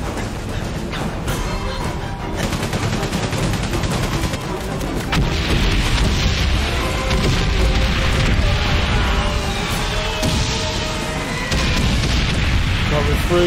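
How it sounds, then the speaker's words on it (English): Bombs burst in rapid succession on a World War I battlefield in Valiant Hearts: The Great War, loud rumbling booms layered with machine-gun fire, a dense continuous barrage lasting throughout. "More bombs."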